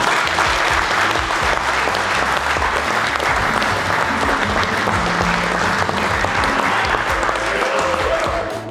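A stadium crowd at a football match roars and applauds for a debutant player, a loud, sustained cheer with no break.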